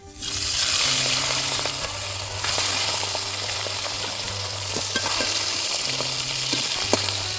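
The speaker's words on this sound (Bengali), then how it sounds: "মাছের মাথাগুলো ভেজে নিচ্ছি।" Fish heads coated in turmeric and salt fry in oil in a wok with a strong, steady sizzle and bubbling hiss, close and constant throughout, with no voices.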